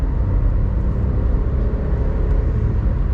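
A VW Up 1.0 with a 60 hp engine accelerates in third gear, a steady low engine drone and road rumble heard from inside the cabin, loud and continuous without voices.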